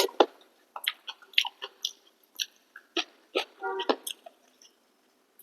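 Someone eats rice mashed with boiled lentils (dal), ghee, fried egg and boiled potato: close, moist chewing and smacking in irregular bursts with soft breaths, near and fairly quiet.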